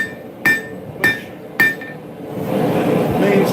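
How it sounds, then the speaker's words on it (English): Three ringing hammer blows on hot metal at a forge, drawing out the material with an angled hammer technique, evenly spaced and loud, then a steadier low rumble of the forge. "So that angling, the hammer technique is really handy for drawing out material."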